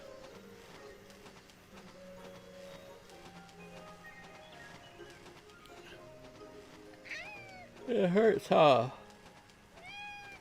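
A cat meows loudly in a couple of sharp, rising cries near the end, close and clear, after a stretch of quiet room noise and a softly spoken line.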